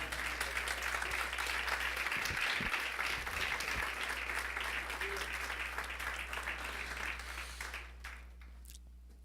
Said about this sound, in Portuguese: Vamos aplaudir Jesus por essa palavra.